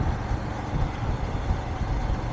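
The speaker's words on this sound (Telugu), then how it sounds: "ట్రైన్ వెళ్తుంది ఇప్పుడు దాని మీద" A loud, continuous low rumble of a train rolling over a bridge, steady and close throughout with no voices.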